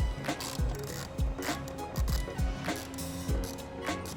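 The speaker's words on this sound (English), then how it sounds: "The last things holding your bumper on are these 4 T25 screws. Pop these out" Four T25 screws being backed out of the bumper of a 991.2 Porsche 911, a steady run of small mechanical clicks and ratcheting ticks with no talking.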